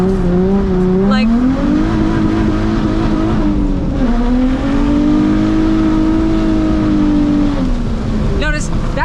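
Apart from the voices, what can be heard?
drift car accelerating and revving with tire squeal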